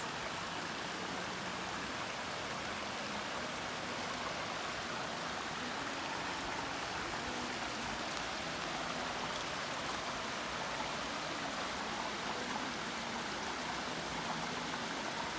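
A mountain stream flows in an outdoor nature setting, producing a steady, dense rushing hiss of water that stays even and continuous throughout, close by and moderately loud, with no talk over it.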